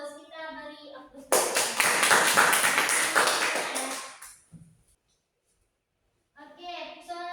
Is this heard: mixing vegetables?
no